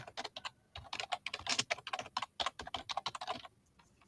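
Keys clatter on a computer keyboard as a folder name is typed, a quick irregular run of close, crisp taps with a brief pause partway through, then stopping near the end.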